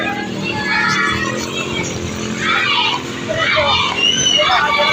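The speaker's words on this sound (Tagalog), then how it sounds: "Kung maririnig nyo, sinasalubong kami ng mga bata dito sa amin." Children greeting and playing outdoors on a village street, their excited shouts and chatter rising in bursts over a busy babble of voices and passing traffic noise, loud and close throughout.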